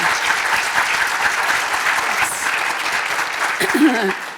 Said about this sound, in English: let's give the predoctoral fellows another big round of applause